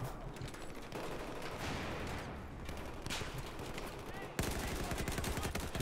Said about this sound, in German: da kommen ja schon Schüsse durch